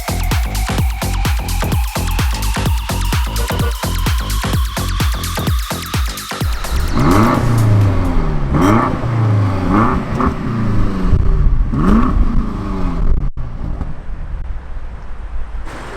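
A BMW M8 First Edition accelerates hard from a standstill, its engine climbing steadily through the revs, then roaring through quick upshifts with a dip and surge at each change, loud and close, with wind and road rumble growing beneath.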